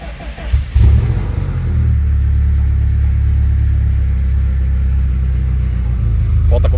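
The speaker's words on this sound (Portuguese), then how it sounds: "E agora a gente tem um carro que liga, funciona e acelera." A Volkswagen Beetle fitted with a Subaru engine, on a performance tuning setup, cranks and fires up with a thump, then settles into a loud, deep, steady rumbling idle close by, with someone speaking over it.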